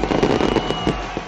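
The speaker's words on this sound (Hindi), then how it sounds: "12 बजते ही आसमान रंगारंग रोशनियों और आतिशबाजी से जगमगा उठा।" New Year's midnight fireworks over Lahore bang and crackle in quick, irregular bursts, loud and close, with no voices.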